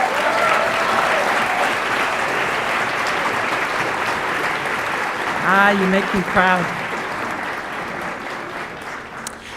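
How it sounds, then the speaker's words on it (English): Audience applause at the close of an evening of oratorical speeches, a steady broad wash of clapping filling the whole stretch while a voice speaks briefly over it partway through. "Let's give them a round of applause."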